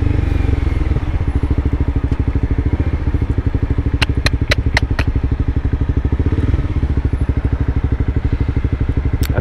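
A motorcycle idles at a stop in city traffic on Lake Shore Drive, its engine throbbing in a steady, loud, close rhythm, with a few sharp ticks partway through.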